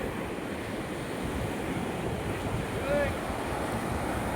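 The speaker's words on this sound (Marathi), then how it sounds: "अथांग पसरलेला हा समुद्र, खवळलेल्या लाटा" Steady broadband roar of rough surf and wind, continuous and fairly loud, with a brief faint tonal whine near the end.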